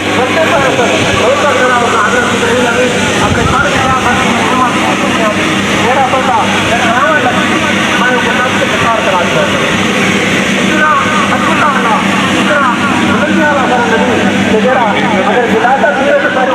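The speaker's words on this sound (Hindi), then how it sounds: "ये डायमंड की यानी कि इंडक्शन मोटर है" A Pakistani-made Diamond induction motor drives the tub of a dough kneading machine that runs unbalanced and jerks, giving a loud, steady droning roar throughout while someone talks over it.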